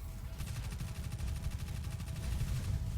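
Rapid automatic gunfire from a video game, a steady stream of close, quick shots running throughout at moderate loudness, with no talk.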